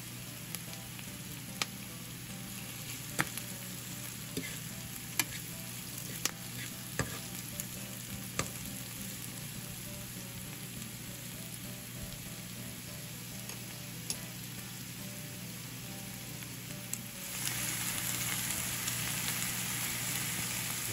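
Chanterelle mushrooms and shallots fry in a pan, giving a steady, close sizzle with scattered sharp pops that swells louder over the last few seconds, with no voices.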